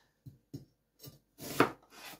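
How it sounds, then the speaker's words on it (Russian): Knife cutting onion on a board in a home kitchen: a few separate, close scraping and rasping cuts at uneven intervals, ending with a louder, longer slicing stroke and one more softer cut. "и режем лук"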